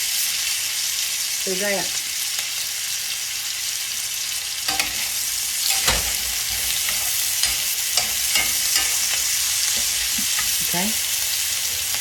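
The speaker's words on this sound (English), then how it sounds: "You don't want to fry them too hard, but you do want to get them kind of sort of brown." Beans fry in a hot pan with a steady sizzle while a spoon stirs and scrapes now and then, close and clear, and someone speaks briefly over the cooking.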